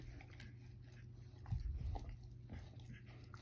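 A puppy eating, with close, soft chewing and biting sounds over a low steady hum, briefly louder in the middle.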